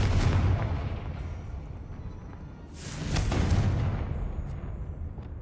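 A Confringo blasting spell goes off in Hogwarts Legacy, giving a loud, rumbling explosion that swells and fades, then a second booming burst rises midway and rolls out more slowly.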